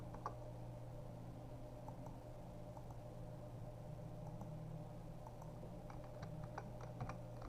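Faint keyboard typing, with scattered soft key clicks under a constant low hum and background noise, growing a little denser toward the end.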